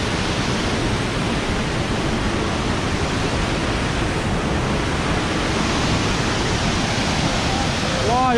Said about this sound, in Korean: 와 폭포가